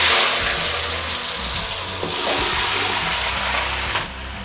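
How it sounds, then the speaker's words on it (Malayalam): Vegetables for Kerala-style aviyal tossed into hot coconut oil with popped mustard seeds, giving a loud, broad hissing sizzle that swells and settles, with faint clatter from the pan and no voices. "ഇനി നമുക്ക് പച്ചക്കറികൾ ഇട്ട് കൊടുക്കാം"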